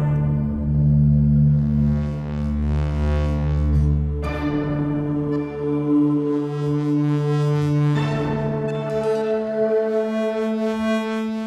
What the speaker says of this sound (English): Now, here is the sound of the Ableton sampler playing the sample